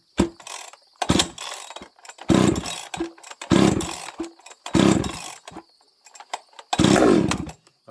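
A small carbureted engine on full choke, started on a bench with an empty carb, pulls over in repeated loud sputtering, ratcheting bursts separated by short gaps.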